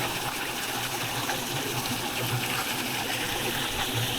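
Waterfall pouring into a pool deep enough to wade, a heavy, continuous roaring gush of water, loud and steady throughout with no breaks.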